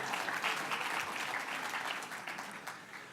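A crowd at an annual community gathering breaking into applause, a dense, even spread of many hands clapping at moderate distance, gradually tapering off near the end.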